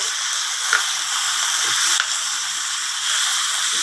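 Chicken and onions fry in a pan for adobo, giving a steady close hiss and sizzle with a few faint pops and no talk.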